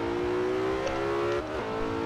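A Porsche in Forza Horizon 3 launches from the line, its engine droning at a high steady pitch then briefly dipping as it shifts and pulls again, loud and close.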